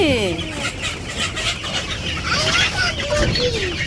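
Hens cluck close by in a village yard in the morning, a series of short, throaty calls, with people talking over them.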